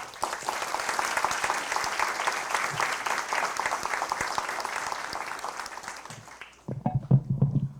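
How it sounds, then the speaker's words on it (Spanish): Audience applause opening a Latin American criminology conference, a sustained wash of many hands clapping that fades out after several seconds, with a voice beginning at the end. "con un fuerte voto de aplausos"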